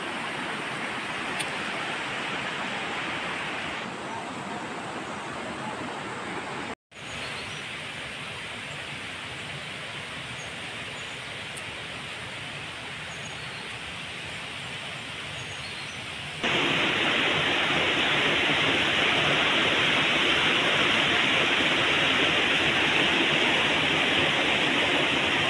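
The Tap Khola river in Nepal, where boys are fishing with hook and line, gives a steady, broad rushing flow that continues throughout and grows louder for the last stretch, with no talking.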